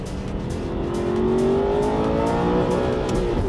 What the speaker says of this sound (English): that a proper nice gear change